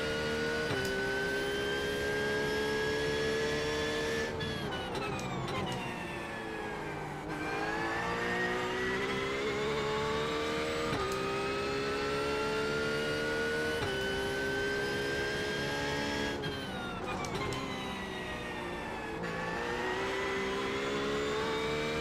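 Race car engine at Bathurst in iRacing, heard up close from the cockpit, revving hard with rising pitch sweeps, sharp drops at gear shifts, and lifts into the corners before pulling again.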